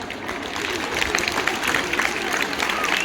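An audience at a retirement farewell applauds steadily, a dense, sustained wash of clapping from a crowd that stays fairly even and loud throughout.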